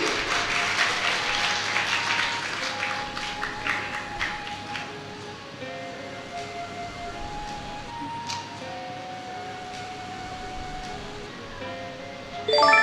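A congregation at Mount Carmel Church gives loud applause for a sister. The clapping is densest at the start and then thins into a steadier patter, with tonal music sounding faintly underneath.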